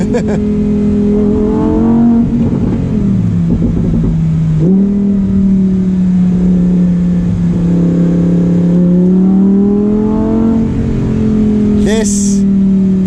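Lamborghini Huracan Performante engine revving hard on the move, its loud tone sweeping up and down with gear changes across several pulls, heard close from inside the car with a voice speaking over it.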